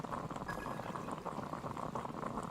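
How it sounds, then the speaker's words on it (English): Water boiling in the video game Genshin Impact, a steady bubbling, fizzing wash that holds at an even level throughout with no talk over it. "I'll boil some water."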